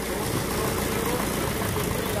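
A 65 HP Belarus tractor from 1970, a Russian machine, runs with a loud, steady engine rumble and vibration filling the whole stretch.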